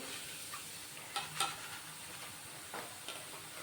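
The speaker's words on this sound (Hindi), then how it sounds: "तो हम 2 बार में 3 बार में थोड़ा थोड़ा करके ही पोहा को फ्राई करेंगे" Maize poha fries in hot oil with a soft, continuous sizzle, with a few light stirring clicks and scrapes rising over the quiet bubbling, and no one speaking.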